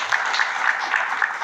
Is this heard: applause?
yes